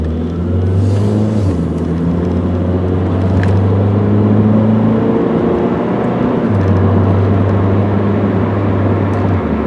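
A 1995 Honda Accord EX sedan accelerates steadily on the road, its engine hum and tyre rumble holding at a constant, close, moderate level with slight changes in pitch as it picks up speed.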